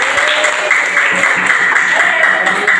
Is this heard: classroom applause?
yes